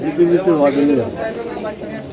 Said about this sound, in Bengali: খুব বড় বড় সাইজের কবুতর খুব বড় সাইজের এই বড় কবুতর